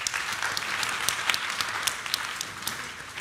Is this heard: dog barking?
no